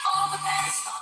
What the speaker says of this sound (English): Laura, Was it a ringtone?